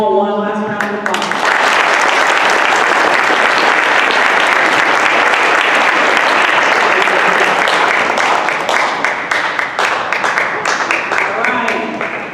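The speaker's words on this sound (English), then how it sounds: "let's give them all one last round of applause" A school awards assembly audience breaks into loud, sustained applause lasting several seconds, with dense overlapping claps that thin out slightly toward the end.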